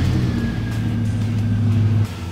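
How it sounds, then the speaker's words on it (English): A vehicle engine runs at a steady idle during a fuel pressure check, a continuous low rumble held close and loud, easing off near the end. "Now we'll start the vehicle and see our running pressure."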